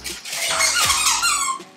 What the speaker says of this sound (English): Grimmy, say bye by squeaking the toy